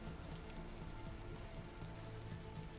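Steady rain falls in the survival game Vintage Story, a dense, even patter of drops on surfaces that continues without pause and with no voices.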